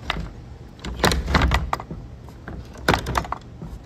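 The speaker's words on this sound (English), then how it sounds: "Another shed. Heavy doors," A heavy shed door is shoved and dragged open outdoors, a series of loud close rattling thumps and scraping knocks in uneven bursts.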